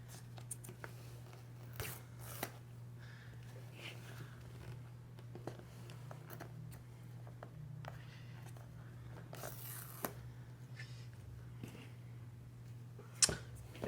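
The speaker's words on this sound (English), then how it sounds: "I'm gonna go ahead and start by peeling away" Protective plastic peel-away tabs are pulled off an iPhone 14 Pro box in a series of faint, brief tearing and crinkling sounds, scattered irregularly over a steady low electrical hum, with no talking.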